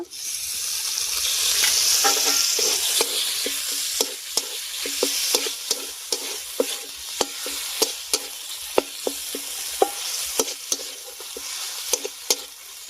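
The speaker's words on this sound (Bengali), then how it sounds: "এবারে কুচিয়ে রাখা টমেটোটা দিয়ে দেব" Chopped tomatoes frying in a pan for paneer posto, a bright continuous sizzle with regular sharp clinks of a spatula striking the pan, close and alone.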